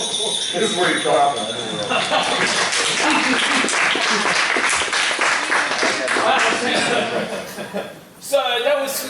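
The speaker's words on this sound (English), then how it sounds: "This is where you clap." An audience applauds after a song in a comedy stage show, with lively clapping mixed with chuckles and laughter, while people talk over it near the end.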